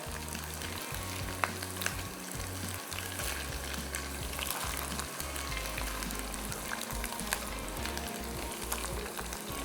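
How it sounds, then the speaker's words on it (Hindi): Koftas fry with garlic-ginger paste in a karahi, sending up a dense, even sizzle and crackle that runs steadily beneath a low background hum. "और कोफ्तों को करेंगे फ्राई।"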